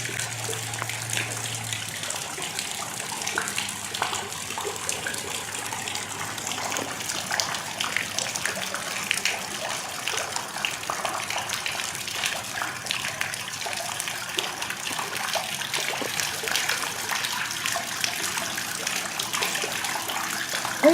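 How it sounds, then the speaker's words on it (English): Steady rushing of floodwater gushing down a drain in Apple Valley, a loud, close, unbroken wash of water that continues evenly from start to finish with no voices. "That's the sound of water waste right there."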